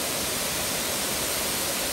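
Water blasting hard from a tap at a seafood restaurant in Sindhudurg, Konkan, a steady dense hiss of spray filling the whole short stretch at an even level with no break.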